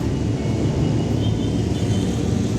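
Motorbikes including Suzukis and Triumphs pass at a bikers' toy run in Stoke-on-Trent, making a steady broad engine rumble and drone throughout with no distinct pass-bys.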